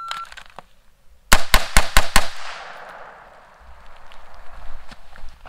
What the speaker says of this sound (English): 1, 2, 3, 4, 5 shots.